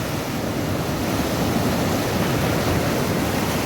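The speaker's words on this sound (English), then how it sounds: "Thousands of gallons of water a fucking second going into that." Powerful floodwater from Storm Henk roars in a dense, steady rush, loud and close, with no break and no voices over it.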